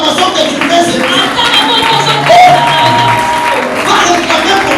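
A church congregation cheers and applauds during worship, a loud, dense wash of claps and voices that continues steadily throughout, with shouts and singing mixed in.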